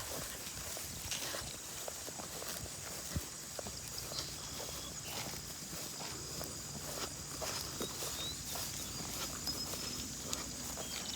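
Steady shuffling hoof steps from a flock of sheep moving over the ground, continuous and close, with outdoor ambience and faint insect buzz behind.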